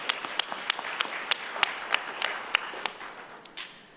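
A crowd applauds with scattered, distinct claps that thin out and fade toward the end, with no voices over it.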